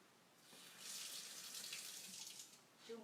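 Tap water runs into the reservoir of a water-brush paintbrush, a steady hiss of flowing water that swells and holds for a few seconds before easing, heard alone without talk.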